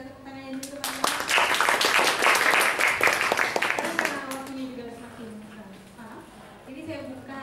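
Audience applause at a social entrepreneur startup event, a dense burst of clapping that swells for a few seconds and then fades, with a speaker's voice continuing over and after it.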